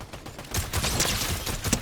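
Rapid bursts of Fortnite gunfire crackle continuously, a steady volley of shots with sharper cracks standing out, loud and close.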